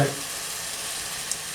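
Mince for bolognaise sauce sizzles steadily in a pan as it is stirred, a close, continuous frying hiss with a faint scrape of the utensil near the end.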